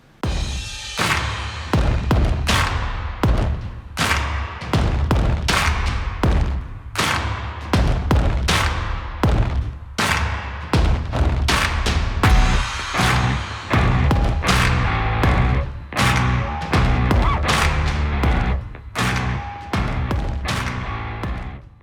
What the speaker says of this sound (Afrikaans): En dan gaan jy 10 sekondes hê om jou 3 skote te skiet.